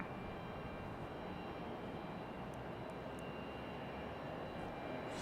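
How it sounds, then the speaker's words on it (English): A United airliner approaching to land at Raleigh-Durham International produces a steady, loud engine roar that holds level throughout, with faint distant clicks. "Looks like United"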